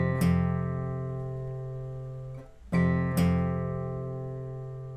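An acoustic guitar picking pattern from a song rings out alone, two picked strikes with sustained chiming notes decaying between them, fairly quiet.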